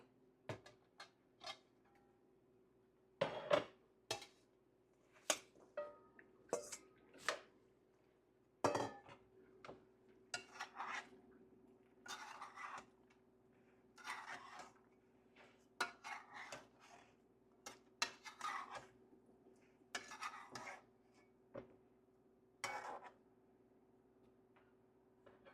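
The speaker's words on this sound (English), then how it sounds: "Now I'm going to put in my vegetables in the pot" Vegetables go into a stew pot for Jamaican-style stew beef, with a scattered series of close metallic clinks and knocks of utensils against pots and dishes over a low steady kitchen hum.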